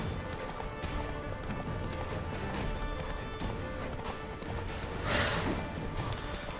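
Rapid galloping horse hoofbeats in The Witcher 3 pound steadily through dense game audio, with a brief crash partway through.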